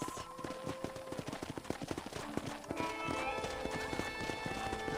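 Steady clip-clop of horse hooves trotting at an even pace in the video game Red Dead Redemption, with a soft musical backdrop underneath.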